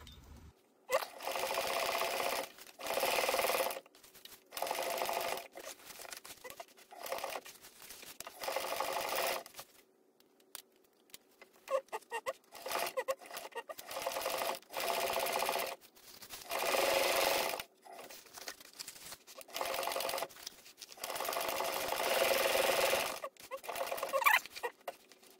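A home sewing machine stitches panels of a laptop bag in short whirring bursts separated by pauses, with clicks and handling noise between runs, close and fairly loud.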